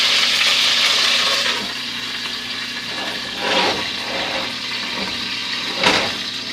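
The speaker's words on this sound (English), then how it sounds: "You hear it sizzling?" Chicken sizzles and crackles steadily in a hot pan close by, with brief louder bursts as it's stirred or moved.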